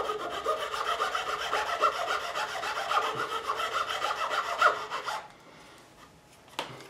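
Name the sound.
filing away excess material from guitar nut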